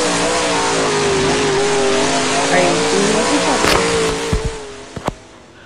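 Super late model dirt race car in the Dirt Trackin video game roars at full throttle on the final lap, a loud, steady engine drone with brief squeals and thumps near the end.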